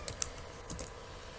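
A word is typed on a computer keyboard, a short run of a few crisp, close key clicks with small gaps between strokes, heard alone in a quiet room.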